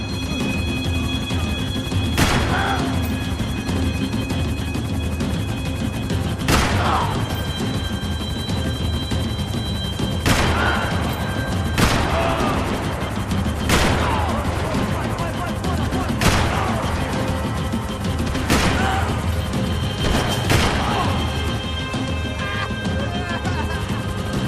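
Gunfire in Max Payne 3 rings out as a series of sharp, loud shots spaced a few seconds apart over a steady hum of engine-like background noise, with shouting voices heard now and then.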